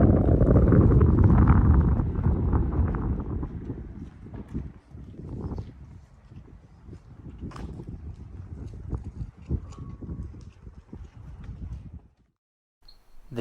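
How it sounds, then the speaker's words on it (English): Strong, cold, snowy wind at Golden Spike National Park, Promontory Point, Utah, roars and buffets the microphone, loudest at first, then gusting unevenly before cutting out abruptly near the end. "it is cold, there's a lot of snow, and it is very windy"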